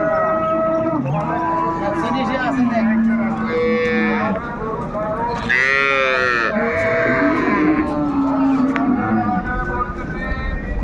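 Dairy cows and calves at a rural cattle market in Dinajpur moo loudly and repeatedly, several animals calling close by in long overlapping bellows over a busy crowd.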